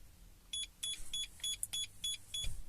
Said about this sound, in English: Get your 7 bleeps